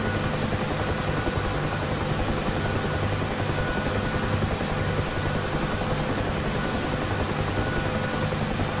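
UH-1H Huey helicopter in the DCS flight simulator, a steady broadband rotor and turbine roar that stays loud and constant throughout, with no talk.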